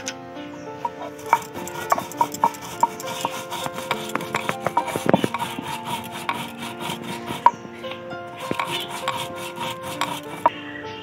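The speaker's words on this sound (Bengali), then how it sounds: "জল ছাড়া মশলাটা বেটে নিচ্ছি।" Dry spices ground on a traditional grinding stone without water, a continuous close rasping and rubbing of stone on stone with scattered sharp clicks and knocks as the grinder rocks back and forth.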